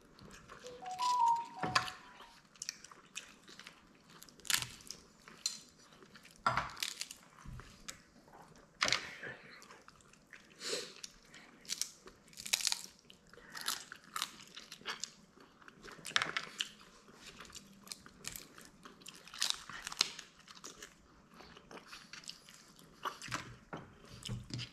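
Cooked European crab in chilli oyster sauce being bitten and chewed, with repeated crunchy cracks and wet chewing bursts close up, scattered irregularly throughout while the room stays otherwise quiet.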